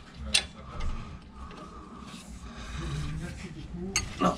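Ratchet wrench working a front brake caliper bolt loose on a Renault Megane 3 during a brake pad change, giving short metallic clicking bursts amid clinks and shuffling, with someone talking over much of it.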